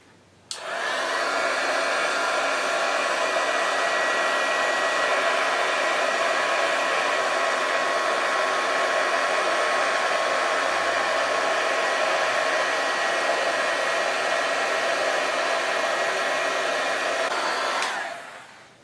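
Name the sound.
heat tool blowing hot air to heat embossing adhesive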